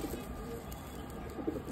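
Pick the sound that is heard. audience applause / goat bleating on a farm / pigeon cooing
pigeon cooing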